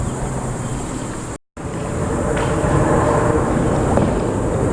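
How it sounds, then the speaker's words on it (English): Continuous broad roar of cars crossing the US 1 bridge overhead, heard from a kayak below on the water, steady and fairly loud with a brief cut in the middle. "You can hear the cars going over."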